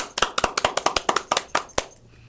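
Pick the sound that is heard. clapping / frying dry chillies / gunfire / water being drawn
clapping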